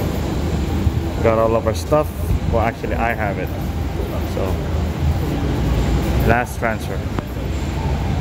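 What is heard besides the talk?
train ride interior, Tokyo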